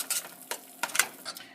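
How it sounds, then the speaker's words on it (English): Homemade tomato sauce with cherry tomatoes sizzles in a pan while being stirred, with close scraping strokes and bursts of frying hiss in an uneven rhythm. "just mix it together and let it keep sizzling until the cherry tomatoes start"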